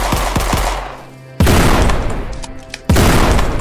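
Heavy gunfire from the video game Forgive Me Father, with loud close bursts of rapid shots repeating in three blasts and decaying booms between them.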